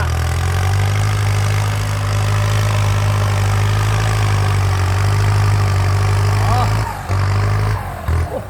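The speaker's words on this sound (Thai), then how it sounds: "ขับเคลื่อนโฟวินนะครับ สีสูบเทอร์โบไดเรกอินเจคชั่นระบายความร้อนด้วยน้ำ57พลังมา" Kubota MU5702 four-wheel-drive tractor with a four-cylinder turbo direct-injection water-cooled diesel, working at a pond edge, running with a loud steady low drone close by, with a slight dip near the end and someone talking over it.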